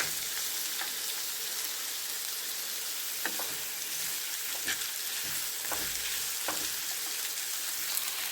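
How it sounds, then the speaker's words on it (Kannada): Sliced onion sizzles in hot oil in a pan while being fried until soft for a paneer gravy, a steady close hiss with occasional stirring clicks. "ನೀಟಾಗಿ ಸಾಫ್ಟ್ ಆಗೋವರೆಗೂ ನಾವು ಇದನ್ನು ಫ್ರೈ ಮಾಡ್ಕೋಬೇಕು"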